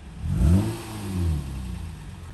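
A car engine fitted with electronic exhaust cut-outs revs twice in quick swells, a near, throaty rise and fall that settles back toward idle.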